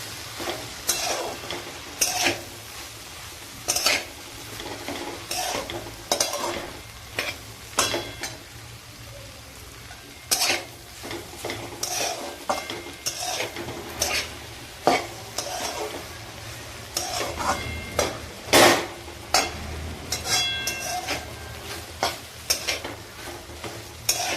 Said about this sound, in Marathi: आता भेंडी ही शिजलेली आहे तर मी त्यामध्ये शेंगदाण्याचा भाजीला कूट टाकते आणि हे थोडं हलवून घेते